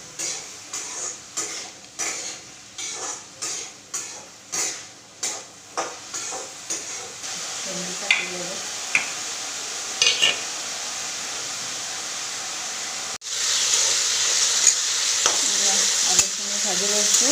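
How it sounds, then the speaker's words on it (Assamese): Potatoes frying in a pan at home, with a run of rhythmic scraping stirs followed by a steady sizzle, plus a few clinks of utensils. "আলুখিনি ভাজি লৈছোঁ"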